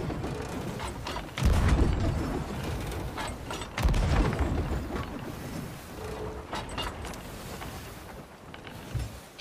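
Cannons fire chain shot in Sea of Thieves, two heavy booms several seconds apart over rushing wind and creaking ship mechanisms, with a smaller thump at the end.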